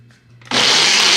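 Countertop blender grinding a spinach and coconut water smoothie kicks in suddenly after a quiet moment, then roars loud and steady to the end.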